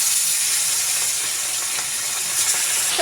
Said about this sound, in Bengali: এখন তেল গরম হয়ে গেছে, মাছটা ভাজা দিয়ে দিচ্ছি